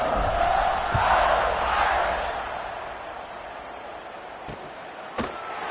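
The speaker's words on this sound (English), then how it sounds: "They're set to kick it off, and this crowd now ready to get behind them." A broad stadium crowd roar at kickoff in a college football video game swells and then gradually fades, with a couple of sharp thumps near the end, no clear speech.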